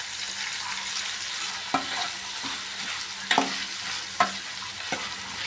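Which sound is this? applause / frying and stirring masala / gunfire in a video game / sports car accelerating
frying and stirring masala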